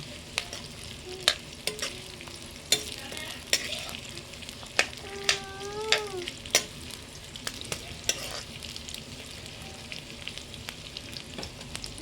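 Village chicken frying in a pan, a steady close sizzle with repeated scraping and clacks of a spatula as the pieces are stirred and flipped, no voices.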